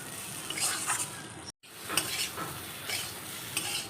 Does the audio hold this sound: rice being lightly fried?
yes